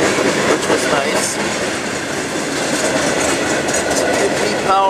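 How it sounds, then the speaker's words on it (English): A tanker freight train rolls past close by, loud continuous rumble with rhythmic wheel clickety-clack and occasional squeal, a voice faintly under it. "Some good power and a tanker train."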